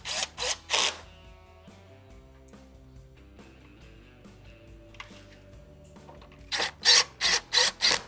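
Cordless drill driving screws to mount the main control board of a Frigidaire stove, a few short whirring bursts at the start and a run of five quick bursts at the end, with a low steady hum between them.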